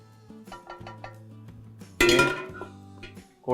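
Hot tempering with asafoetida and coconut is tipped from a metal pan into thavala vadai batter in a bowl: ringing metallic clinks, then a brief loud rushing splash of the pour, with more clinks after.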